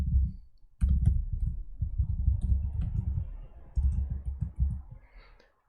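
Computer keyboard being typed on, a close, quiet run of soft clicks and taps in irregular bursts that fades out at the end.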